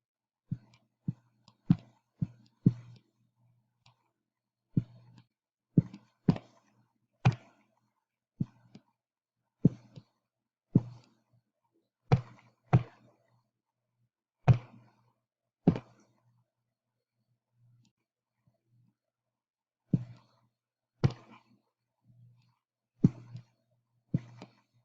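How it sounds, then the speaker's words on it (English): Calculator buttons are pressed one at a time in short bursts of sharp, close clicks, with brief pauses between groups and no talking. "I can just type it all in the calculator at this point."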